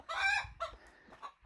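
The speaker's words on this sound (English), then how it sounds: "there's a red chicken in the nesting box." A red hen squawks loudly from a nesting box, a harsh opening cry followed by a few shorter clucks in an uneven rhythm, close by and with no talk.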